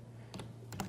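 A few quick keystrokes on a computer keyboard while entering the ipconfig command, two short clusters of clicks, faint and close.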